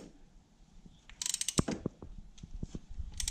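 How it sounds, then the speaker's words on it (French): A socket ratchet clicks in quick bursts of sharp, close pawl ticks while tightening during a car oil change and filter swap, the clicking stopping and starting irregularly in a quiet garage. "Là, tu mets ton ratchet dedans."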